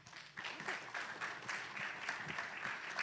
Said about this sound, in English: So please give Elena a big round of applause